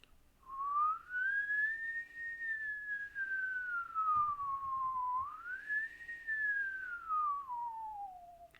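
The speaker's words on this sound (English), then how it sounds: "So now I can also try to whistle." A person whistles a pure, steady tone that glides up and then slowly down in pitch, twice in a row, clear and close in a quiet room.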